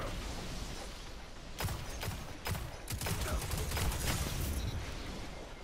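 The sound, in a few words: energy hand cannon shots in video game Destiny 2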